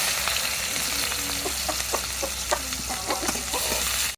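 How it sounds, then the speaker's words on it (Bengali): Chopped onion and green chili fry in hot oil in a wok, a steady close sizzle with light stirring scrapes and clinks running throughout, no voices. "রান্নার জন্য কড়াইতে তেল দিয়ে দিয়েছি এবারে দিয়ে দেবো পেঁয়াজ কুচি ও কাঁচামরিচ"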